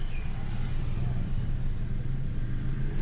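A car engine idles steadily in neutral with the handbrake on, a low continuous rumble heard close and without talk.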